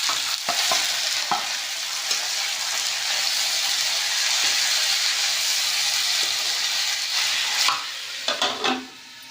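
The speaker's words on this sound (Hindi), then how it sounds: "अब करेला डाला हूँ संगवारी हो।" Pieces of bitter gourd fry in a hot, oily pan with a continuous loud sizzle. Repeated spoon scrapes and clatters are heard as they are stirred, and the sound eases near the end.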